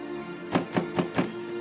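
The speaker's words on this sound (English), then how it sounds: "someone knocked on the door" Four evenly spaced knocks on a door, close and distinct, over a steady low hum with no voices.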